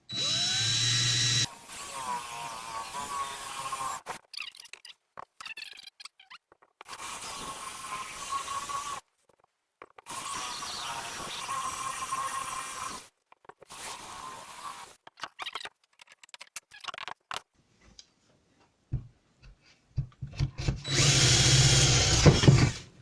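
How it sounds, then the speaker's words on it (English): A Forstner bit bores a hole through a router table insert in a garage workshop, the power drill whining in several loud bursts separated by pauses, with a final burst at the end. "I'm just going to use a Forstner bit to make the hole that the jigsaw is going to go into."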